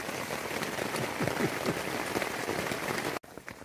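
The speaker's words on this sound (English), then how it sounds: "we're still inside the tent waiting for it to stop raining" Steady rain patters on a tent from inside, a dense even crackle of drops on the fabric with scattered louder taps, running close and continuous before cutting off abruptly near the end.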